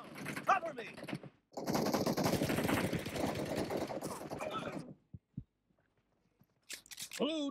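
Rapid gunfire bursts crackle through a mobile shooting game played on a Black Shark 3S phone, a dense sustained volley followed by scattered single shots, with game voice snippets at the start and end.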